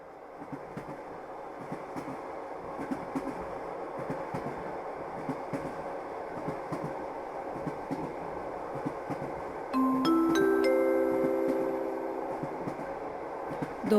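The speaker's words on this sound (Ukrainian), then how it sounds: "потяг Різдвяний Експрес відправляється зі станції Ноїв Ковчег" A Christmas Express train departs in a children's Christmas play, a steady rumble of rolling wagons with a burst of bright whistle-like tones partway through, and no speech.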